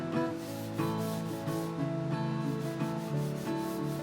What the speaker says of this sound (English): you can't get away from sanding, and there's always sanding to do